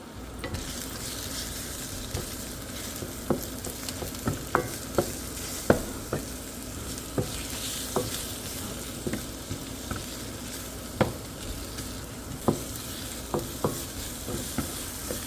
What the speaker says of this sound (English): We're just gonna saute our garlic and onion with 3 kaffir lime leaves until fragrant.